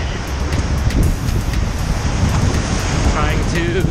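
Waves roll in along a sandy beach during a run by the water, a steady broad surf wash mixed with wind buffeting the microphone, continuous and fairly loud throughout.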